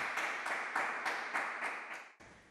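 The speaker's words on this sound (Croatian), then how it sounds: "to bez sumnje mora izazvati aplauz" An audience at a news event claps and applauds, a steady run of rhythmic clapping swells heard at a modest distance, cutting off abruptly near the end.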